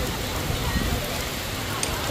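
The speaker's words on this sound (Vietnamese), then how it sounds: "hôm nay quá trời mưa luôn" Heavy rain falls over a rural Vietnamese village market in Sóc Giang, a steady, dense broadband wash that stays constant and close throughout, with faint voices mixed beneath it.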